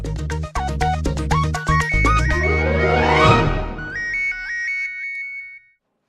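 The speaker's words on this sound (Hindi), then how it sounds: "किसका फोन है?" A loud electronic phone ringtone plays a bright repeating melody, swells into a rising sweep, then trails off into a few thin tones.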